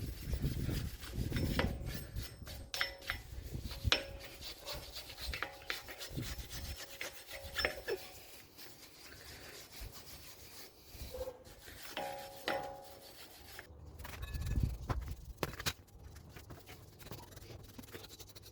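A brake caliper slide surface on a VW Passat R36 is scrubbed clean by hand during a front rotor and pad job, with close, uneven rubbing and scraping strokes, fairly quiet throughout.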